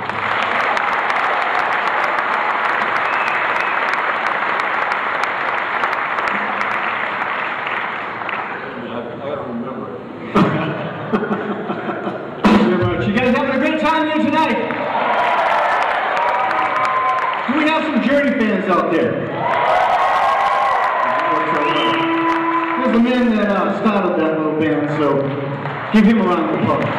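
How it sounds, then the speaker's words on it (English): At a rock concert in a large auditorium, an audience claps and cheers loudly for several seconds, then the applause thins as someone speaks over the fading crowd noise. "Give him a round of applause."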